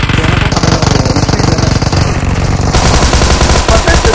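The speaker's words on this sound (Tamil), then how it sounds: "நான் எனிமி சுடுறேன்" Rapid automatic gunfire in the battle royale game PUBG, played on an iPad 8th generation, a loud, dense, continuous stream of shots with no pauses, alone without talk.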